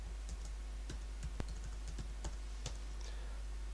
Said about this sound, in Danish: Og skriver sit kodeord nedenfor.